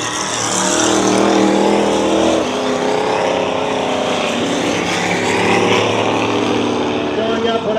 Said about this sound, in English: Higgins jumps out there quick with that 8-cylinder underneath that car.